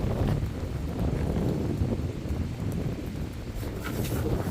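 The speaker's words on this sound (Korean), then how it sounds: "바람이 너무 많이 불어가지고 와 장난 아니에요 바람" Strong outdoor wind roars and buffets against the microphone in a steady, rumbling gust that lasts throughout.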